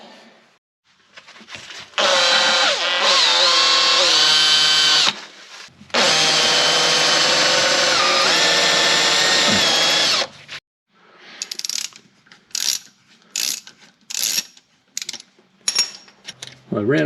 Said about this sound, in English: I guess we'll be drilling that one out